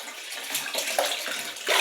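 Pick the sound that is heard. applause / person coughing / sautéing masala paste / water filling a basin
water filling a basin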